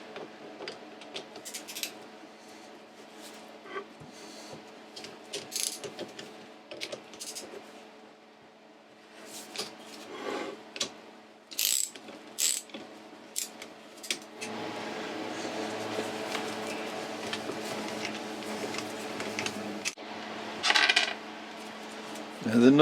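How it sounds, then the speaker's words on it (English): Metal clinks, knocks and ratchet-like clicks come from undoing the four bolts on a Boxford lathe motor cradle, sounding as scattered close taps with a steadier mechanical whir toward the end and a faint background hum. "these are the 4 bolts that you need to undo to get the cradle"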